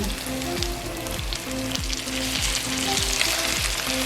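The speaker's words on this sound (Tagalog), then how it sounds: "hayaan lang natin maprito siya for about 30 seconds yung first side" Chicken pieces fry in a pan with softened onion and garlic for Pinoy-style chicken afritada, giving a steady, dense sizzle with recurring low scraping or stirring strokes at roughly even intervals, close and continuous with no talking.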